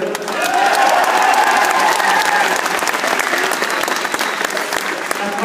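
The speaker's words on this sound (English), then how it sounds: "boys, give yourselves a round of applause" A hurling team celebrates after an intermediate county final with loud, dense applause and some cheering, sustained for several seconds, with voices mixed in.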